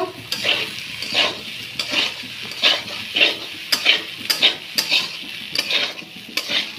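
Shrimp pasta with pasta masala stirred and fried in a pan: about a dozen close, rhythmic utensil scrapes and clacks over a soft sizzle, with no talking.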